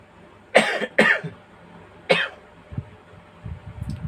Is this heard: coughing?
yes